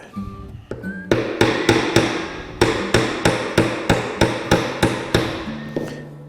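A hammer strikes a ground-down trimming tool being driven through wood in a close, loud series of about a dozen evenly spaced blows, with some faint scraping first.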